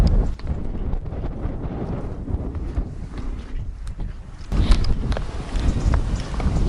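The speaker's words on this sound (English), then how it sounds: "So it's a bit windy today" Steady westerly wind at about 19 mph rumbles and buffets the microphone on the Walney Channel coast, a low roar that swells louder toward the end, with faint clattering sounds underneath.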